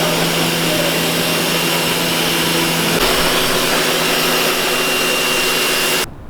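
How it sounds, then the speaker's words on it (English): A pressure washer blasts a degreased engine, a loud continuous hissing spray with a steady motor drone that runs unbroken and then cuts off abruptly near the end. "I'm gonna just pressure wash it"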